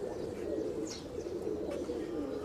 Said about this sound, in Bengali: এটাও টেডি কবুতর ভাই